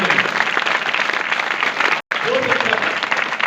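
An audience at a government school gathering claps for a teacher, a dense, steady patter of many hands that cuts out for an instant midway and then resumes, with faint voices mixed in.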